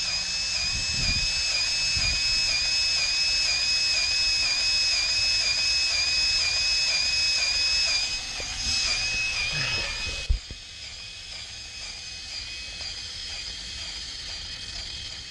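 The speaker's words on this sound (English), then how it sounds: "As I'm pumping this up" Grease gun pumping grease into the track tensioner of a skid steer, a sustained high whining squeal with regular pulsing over mechanical rumble, stopping abruptly with a sharp click near the end.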